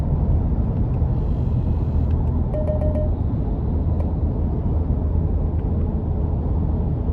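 A 2025 Nissan Armada SL SUV accelerating from about 40, heard from inside the cabin as a steady, loud low rumble of engine and road noise with no break.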